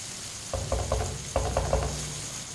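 Tomatoes cook in a pan for a ridge gourd and egg curry, giving a low steady sizzle with a few soft bursts of stirring or scraping near the middle and end, close and fairly quiet with no talking.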